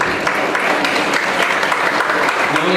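Steady, dense applause from a large audience, continuous and fairly loud throughout with no pause.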